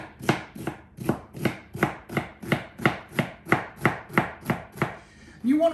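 A knife chops celery on a cutting board in about fourteen even, sharp strokes, close and regular, ending in a short scraping sound.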